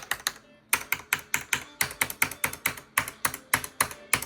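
Typing on a Logitech G613 keyboard gives sharp, loud clacks in a fast, even rhythm after a short opening pause, close and alone.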